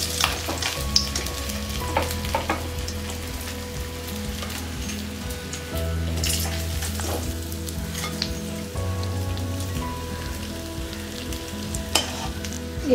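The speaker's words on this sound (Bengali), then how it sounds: "এভাবে আমি বাকি মাথাগুলো ভেজে নেব" Fish heads frying in hot oil in a Bengali home kitchen, a steady loud sizzle and crackle with occasional stirring scrapes, continuous throughout with no talking.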